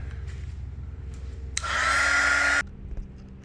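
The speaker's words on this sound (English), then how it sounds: "it's all tightened up with the heat gun" A heat gun blowing on carved model railway scenery, switching on with a sharp whooshing roar that holds steady for about a second before cutting off, with a low hum before and after.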